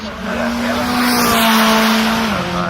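A new Lexus race car roars past at the Goodwood Festival of Speed, a loud sustained engine drone that holds steady and then drops in pitch as it moves away, with crowd and track noise beneath.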